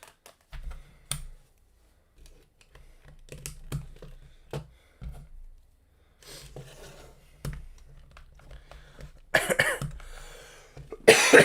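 A few sharp coughs and throat clearings from a man break up near-silence, with scattered keyboard tapping between them and a louder burst near the end.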